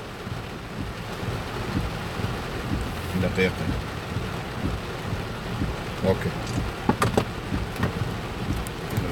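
Rain and wind buffeting a microphone outdoors in Houston during a hurricane, a continuous rough rushing wash with occasional gusty thumps, while someone speaks briefly over it.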